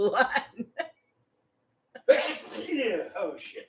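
A person sneezes sharply and close at a party-game show, with short speech before a brief silence and a burst of voices and laughter right after the sneeze.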